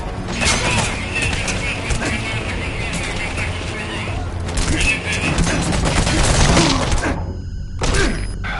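Gunfire from a player's weapon in a PS4 video game, loud rapid bursts of shots and clattering mechanisms with shattering debris, dense through most of the stretch, pausing briefly near the end before a final burst.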